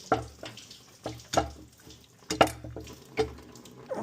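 Coolant drains from a radiator hose on a Jeep Liberty 3.7L and splashes onto the floor in irregular bursts of gushing and spattering liquid, fairly close and moderately loud.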